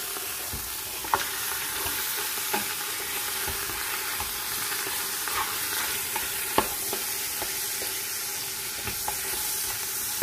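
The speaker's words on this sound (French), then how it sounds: "je vais retourner la viande pour la faire dorer de l'autre côté" Beef browning in a frying pan for couscous with cardoons, a continuous even sizzle and hiss with occasional light clicks of a utensil, close and alone without voices.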